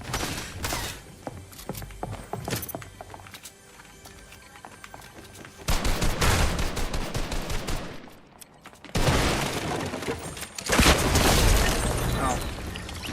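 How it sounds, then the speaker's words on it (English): Gunfire in the video game The Dark Pictures: Little Hope, with sustained bursts of rapid shots and explosive noise in loud stretches, broken by quieter moments and dense game sound. "How the fuck is this dude shooting me through the walls?"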